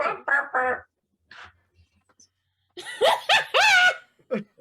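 A person imitates chicken noises with a few clucking bursts, a pause, then a squawking run of sounds that ends in a laugh-like flourish, close and alone.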